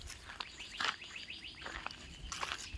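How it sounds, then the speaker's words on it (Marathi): Birds call in a village jungle near a quarry pond, with several short, faint chirps and whistles scattered over quiet background, fairly distant. "फक्त पशुपक्ष्यांचा आवाज।"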